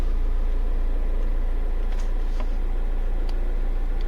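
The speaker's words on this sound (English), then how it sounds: "okay, engine is on" Diesel BMW engine idles steadily after a shifter linkage rebuild, a constant low rumble with a faint ticking texture and a couple of light clicks, close and unchanging.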